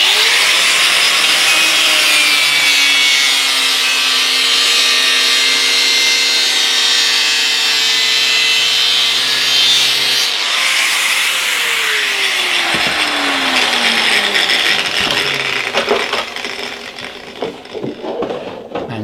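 Loud, continuous sawing or grinding as a sheet of material is cut to size, probably with an angle grinder fitted with a fine disc or a sheet metal guillotine, a steady rasping drone that roughens and breaks up toward the end.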